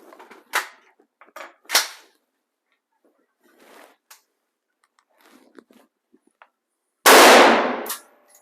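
An AR rifle firing .223 Remington or 5.56 NATO through a chronograph, with scattered quiet clicks and handling noises and then one sharp, loud shot near the end that tails off quickly.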